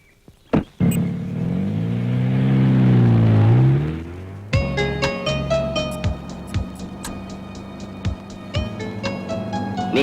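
A car engine revs and drives along, rising and falling in pitch over a few seconds, then continues as a steady running hum with rhythmic clatter and bumps from the road.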